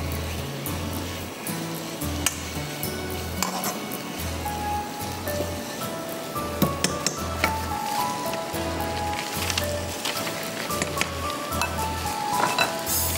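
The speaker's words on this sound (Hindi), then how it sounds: "इसमें हम डालेंगे चिकन, और चिकन को हम करेंगे फ्राई" Chicken frying in a pan for butter chicken pasta, a steady sizzle with occasional stirring clatter, over a low rhythmic hum and faint tones throughout.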